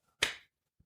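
A single sharp clap or snap, loud and close, with a short decaying tail, followed by near silence and a faint soft thump.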